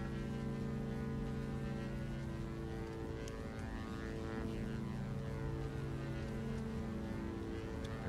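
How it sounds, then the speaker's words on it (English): Twin engines of a Diamond DA62 at takeoff power, a loud steady droning hum with layered harmonic tones heard from inside the cabin, continuous throughout with no talk. "Takeoff power set."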